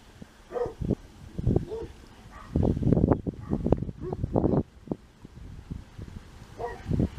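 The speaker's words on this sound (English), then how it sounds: "Doug's gonna bark at him." A dog named Doug barks in a series of short, gruff bursts at someone passing by outdoors. The barks come in clusters close to the microphone, with wind and rustling in the background.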